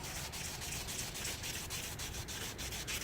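Hand sanding weathered, sun-baked plastic with 2000 grit sandpaper: a steady, close scratching rub with quick back-and-forth strokes, continuous and alone without talk.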